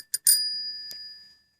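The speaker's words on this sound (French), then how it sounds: "Donc vous l'aurez constaté aussi, il y a sa sonnette d'origine." Original bell on an MBK Crazy bike rings in two quick bright dings, leaving a long clear metallic tone that fades out over about a second, alone and close.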